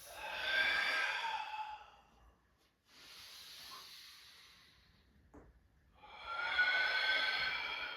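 Two long, close breathy exhales during gentle upper-body yoga movement, each a soft hissing sigh that swells and fades, separated by a quieter stretch with a faint shorter breath.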